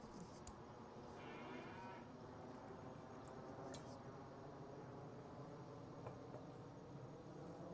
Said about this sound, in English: And I also hear cows mooing.